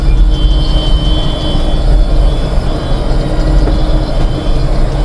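A grape harvester machine runs in a vineyard, giving a loud, steady low engine drone with a constant mechanical roar close by and no talking.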